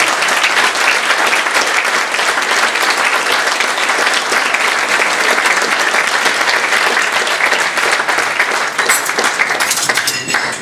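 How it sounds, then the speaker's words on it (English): Loud, sustained applause fills a room at a GAA club dinner dance, with dense clapping from a large crowd holding steady throughout before tapering slightly at the end. "they deserve a round of applause"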